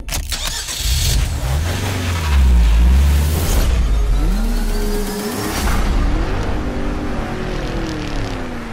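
Race car in a racing video game lapping Laguna Seca: engine revs loudly, then rises and falls through gear changes, one close car with no talk.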